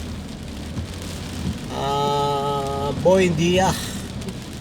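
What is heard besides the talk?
heavy rain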